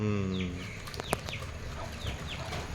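Chickens on a small home farm, a rooster among the hens, give short clucks and chirpy calls over a steady outdoor background, moderately close and fairly quiet, with no talk.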